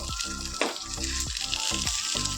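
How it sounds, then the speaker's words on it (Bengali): Pointed gourd (potol) frying in hot oil in a home kitchen, a loud, continuous crackling sizzle with rhythmic scraping strokes from stirring, close up and with no talk. "না পটলটা ভাজা হোক"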